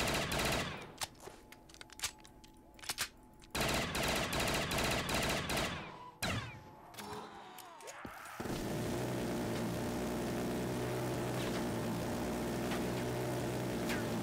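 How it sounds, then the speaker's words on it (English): Minigun fire in Black Ops 3 Zombies on a custom map: bursts of rapid gunfire give way to a dense, sustained mechanical roar of continuous shooting. "I got that minigun."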